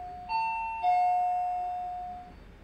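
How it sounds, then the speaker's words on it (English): A two-tone doorbell chimes once late at night, a higher note followed by a lower one that rings on and slowly decays, moderately loud indoors with no talking. "Sorry, just had the doorbell ring as you do, because it's late at night"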